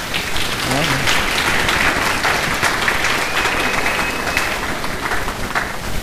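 An audience at a Brazilian church family event applauds as a couple is invited to the front, producing dense, continuous clapping that fills the room loudly throughout.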